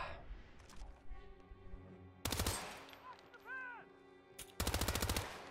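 Video game Hitman 2 gunfire, two loud rapid bursts of automatic shots separated by quieter in-game sounds, with a short rising tone in between.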